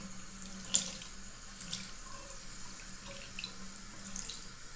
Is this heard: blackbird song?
no